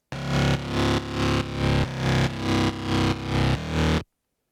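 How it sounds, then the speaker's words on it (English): A loud, gritty distorted bass riff of seven evenly spaced notes, each chopped off sharply, playing alone before cutting to silence. "And down here, we have the bass."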